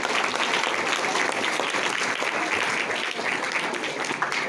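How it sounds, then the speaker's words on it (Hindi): Audience applauding after a devotional song performance, a dense, even crowd clapping that holds steady for a few seconds at moderate loudness. "इस प्रस्तुति के लिए एक बार फिर से तालियां हो जाएं।"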